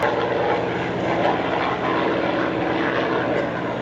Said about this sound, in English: We are less than 1 minute out from a demonstration of an airplane that...